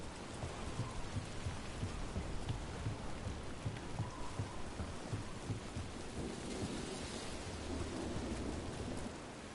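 Steady, heavy rain with low rumbling thunder in a fantasy role-playing game scene, a dense continuous downpour holding at an even level throughout.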